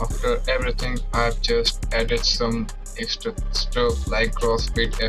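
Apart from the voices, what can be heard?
No distinct noise like a dog, phone or traffic.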